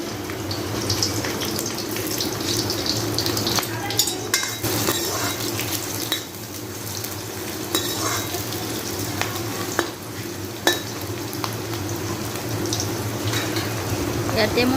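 Onions and four chillies sizzle in hot oil in a home kitchen, a loud continuous frying hiss with clinks of stirring utensils against the pan, while a voice talks over it.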